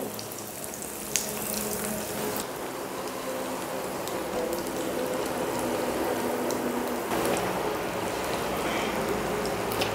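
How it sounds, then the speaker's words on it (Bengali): Egg devil chops frying in oil, a dense, even sizzle close by that holds steady throughout with a few faint pops and crackles. "একটু কম আছে, বেশিক্ষণ ধরে ভাজতে হবে"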